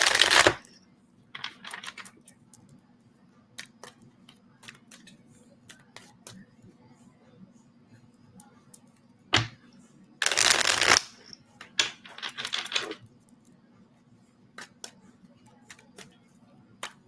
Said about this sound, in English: It's like shuffling the cards and tuning in on you is making me want to burp.